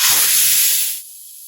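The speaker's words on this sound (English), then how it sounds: "When I threw that valve, I was draining the air tank, which lets moisture out of the tank." Compressed air bursts out of the drain valve of an air tank on a 2019 Ford F550 XLT Super Duty service truck as a loud, close hiss, then cuts off abruptly after about a second, leaving quieter background noise.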